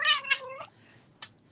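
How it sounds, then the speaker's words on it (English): An indoor house cat lets out two close, loud meows demanding attention, followed by a brief faint rustle, with no voices. "And we have a cat who wants attention."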